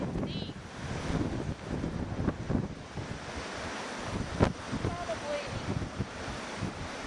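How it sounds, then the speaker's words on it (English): Wind from a February snowstorm roars steadily against the microphone outdoors by a deep driveway, a continuous loud rushing with gusty swells and a brief thump midway. "There's the way the wind blows."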